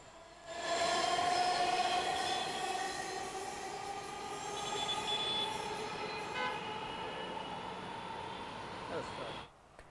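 Dhaka metro rail test train runs past, a sustained electric rumble and whine that swells, holds steady for several seconds and then cuts off, with a voice talking over it.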